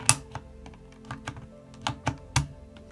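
Keycaps are pulled from a Corsair K65 RGB Mini keyboard, producing a close series of sharp plastic clicks and taps at irregular intervals, with no voices.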